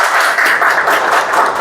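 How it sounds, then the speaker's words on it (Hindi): A room full of people breaks into loud, dense clapping to welcome Shashank, a steady, close burst of applause with no voices over it. "सबसे पहले तो जोरदार तालियों के साथ तो स्वागत किया"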